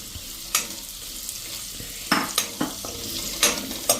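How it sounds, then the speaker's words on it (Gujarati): Marinated cauliflower pieces dropped into hot oil in a pan, giving soft sizzling with several sharp bursts and stirring clatters, fairly close and without talk. "આપણું તેલ પણ ગરમ થઈ ગયું છે તો આપણે હવે જે આ ફ્લાવરના પીસ મેરિનેટ કર્યા છે ને એ આમાં જ"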